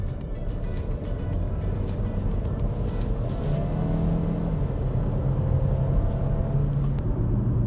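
Kia XCEED crossover accelerating in sport mode, a low engine rumble rising in pitch as revs climb through a gear, heard from inside the cabin and steady in loudness.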